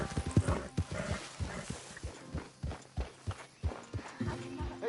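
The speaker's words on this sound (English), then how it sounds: "get that horse out of here" A horse in a PS4 video game clip-clops along at a steady walking pace, close and fairly loud, with a brief neigh near the start and no one talking over it.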